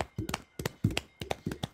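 Neighbours clapping for the NHS at eight in the evening, sharp irregular hand claps in short bursts, fairly close and moderately loud, with low voices murmuring around them.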